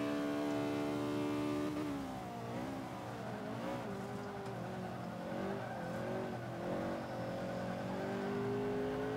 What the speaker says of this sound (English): let's see how I can do here with a couple of warm-up laps